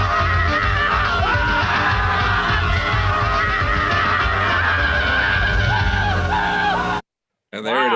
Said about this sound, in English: It's just all yelling.